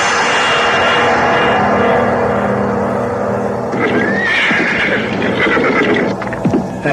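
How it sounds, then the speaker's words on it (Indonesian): A ridden horse approaches, with a steady droning hum throughout and a whinny breaking through near the end, followed by a few scattered knocks, close and fairly loud. "kulihat ada seorang yang mengendarai kuda menuju kemari"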